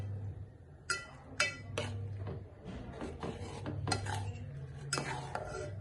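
A spoon scrapes and clinks against a metal cooking pot as food is stirred and mixed, giving several bright, irregular clanks and scraping strokes over a low steady hum, close by.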